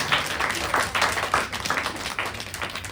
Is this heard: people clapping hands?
yes